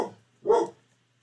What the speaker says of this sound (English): somebody's outside my house, so both dogs are freaking out